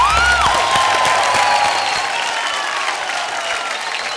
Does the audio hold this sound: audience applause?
yes